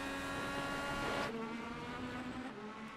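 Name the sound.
IndyCar race car engine, onboard at Road America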